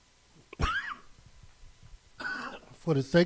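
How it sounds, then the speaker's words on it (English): A sharp cough near the mic, followed a moment later by more coughing or throat-clearing sounds mixed with brief vocal noises. "I may have a little cough"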